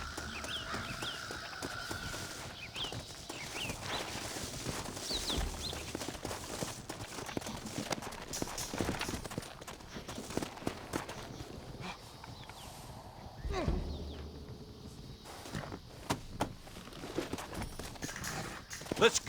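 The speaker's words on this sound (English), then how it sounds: "Looks like Carlos left us some horses." Horses' hooves clip-clop in a steady trotting rhythm over a busy Red Dead Redemption game soundscape, with voices talking and birds chirping in the background.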